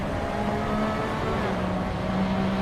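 Race car engine drone and tyre noise in the Assetto Corsa racing game, a steady, continuous close-up hum held at the limit of grip.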